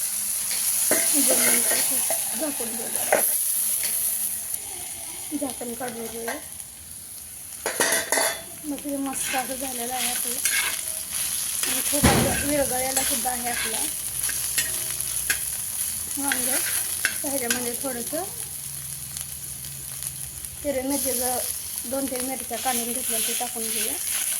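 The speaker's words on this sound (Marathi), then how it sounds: "असं परतून घेऊ थोडंसं एक पाच मिनटं" Eggplant bharit mixed with salt is stir-fried in a pan, a steady sizzle running throughout with repeated scraping and clinking of a utensil against the pan; a voice speaks briefly over the cooking.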